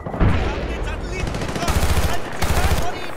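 Hip-fired gunfire in Battlefield: Bad Company 2, loud close bursts of rapid shots in two clusters over a continuous battle din, with a voice speaking briefly.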